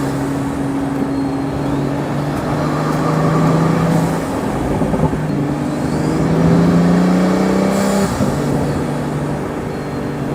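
Pagani Huayra Roadster BC supercar engine pulls hard under acceleration, a loud sustained roar with rising tones for ten seconds and no talking.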